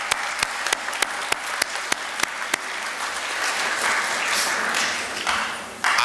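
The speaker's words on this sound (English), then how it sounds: "Give her a nice round of applause" At a high school fine arts festival, a few sharp, isolated claps ring out first, then the audience swells into sustained, full applause.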